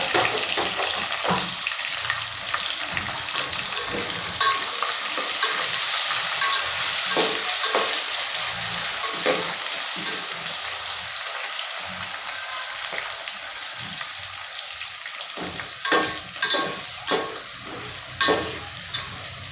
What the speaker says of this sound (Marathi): त्यानंतर आपण घालतो कांदा.